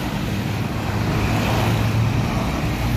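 A Sugeng Rahayu bus overtakes on an uphill road on the Gentong route, its engine a steady, close drone mixed with passing traffic and road noise.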